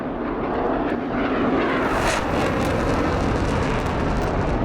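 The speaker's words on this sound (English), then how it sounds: "I can guarantee it's louder in this cockpit than yours, Grump." Loud steady engine roar inside the cockpit of an F-22 Raptor jet in a flight simulator game, a continuous broadband rushing drone at about 425 knots.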